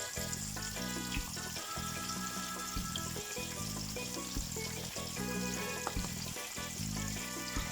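Floured salt cod sizzles in hot oil in a pan with a steady, even crackle, set against background music with a strong bass line, and no one speaks.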